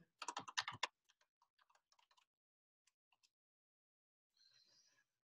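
Quick burst of typing on a computer keyboard, a dense flurry of clicks followed by scattered single keystrokes and a faint brief rustle, close and clear with no talk.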